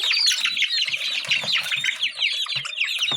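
Chickens kept in a pen squawk and cluck in a busy overlapping chorus of high calls, with bursts of wing flapping and low scuffling, close and continuous throughout with no voices.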